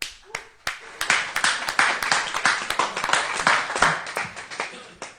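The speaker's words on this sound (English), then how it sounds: "So can we all have a big clap for them?" Applause from an audience at a live arts evening in Leeds, many hands clapping steadily for about five seconds at moderate loudness, opening with a few scattered claps before building into full applause.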